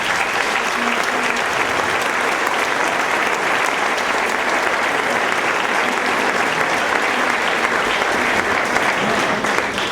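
Loud, dense audience applause at an amateur theatre association event, many hands clapping steadily and evenly for the whole stretch with a faint crowd murmur beneath.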